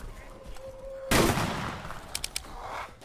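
Gunfire in the video game DayZ, a sharp loud burst erupting after a short tone, then trailing off with a few quicker crisp shots, no talking.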